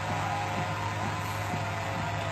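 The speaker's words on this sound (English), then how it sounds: "The noise you hear above is a drone." Drone flying overhead near a police blockade on Highway 1804 in North Dakota, a steady, continuous whirring hum with low tonal drone lines holding at constant loudness throughout, with no talk.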